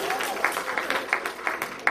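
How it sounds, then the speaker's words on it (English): Audience at a gospel concert in Philadelphia clapping in a quick uneven burst, moderately loud hand claps with crowd murmur underneath. "Give them a hand clap."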